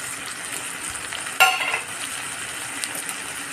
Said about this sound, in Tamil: பாருங்கள் மசாலா நல்லா பொரிஞ்சிடுச்சு